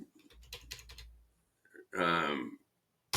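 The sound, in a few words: computer mouse clicking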